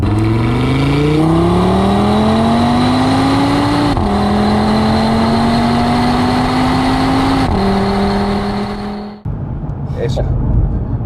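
A sports car, a Ford Mustang Mach 1 or Audi TT RS, accelerates hard from inside, its engine climbing in pitch through several quick, smooth upshifts before dropping away, loud and close with people talking over it.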